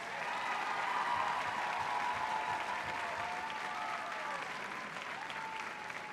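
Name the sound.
audience applause at a school drama performance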